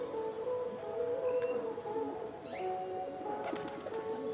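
Pigeons coo softly in a repeated, low murmuring rhythm, with a few brief higher chirps and background clatter around the birds.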